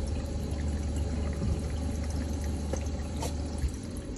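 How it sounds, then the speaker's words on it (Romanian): Water is poured onto a flood sensor inside a motorhome, giving a steady, close, splashing trickle over low background hum, with no voices. "Dacă torn un pic de apă aici"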